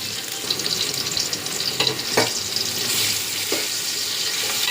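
Ginger garlic paste sizzles steadily in a pan while being stirred, with a few brief scraping strokes over the continuous frying hiss; no voices.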